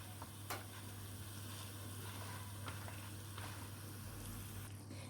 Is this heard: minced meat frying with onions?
yes